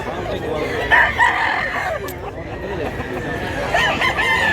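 A three-year-old Lambuhon x Kanawayon gamecock in Mantalungon, Cebu gives a couple of short crowing calls amid steady outdoor noise, with faint human chatter in the background.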